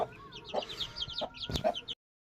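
A hen clucks while her chicks peep in hot weather. Soft, low clucks come in short bursts under a run of high, thin chick peeps, close by with no talk.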